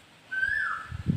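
A single clear whistled bird call, a sustained note that slides gently downward, followed by soft rustling nearby.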